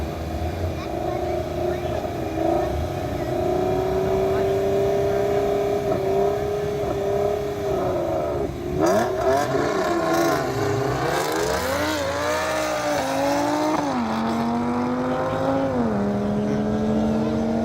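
Turbocharged Audi race car accelerating down a half-mile track, a loud, sustained engine roar rising in pitch through gear changes, with people talking over it.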